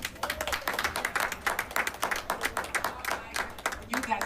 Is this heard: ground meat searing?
no